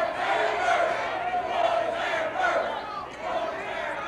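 Wrestling arena crowd at a Mid South Wrestling match voicing displeasure, a sustained loud roar of booing and shouting that swells and dips without pause.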